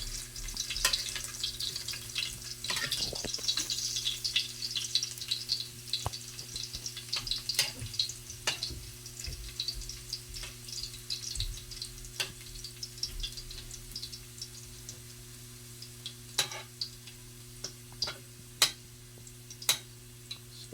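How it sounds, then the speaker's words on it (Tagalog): Garlic sautéing in a pan, close and fairly quiet, a continuous light sizzle with scattered crackles and pops over a low background hum. "gisa natin yung ricado bawang yan mga idol ang bawang hintayin natin mag brown ng bawang"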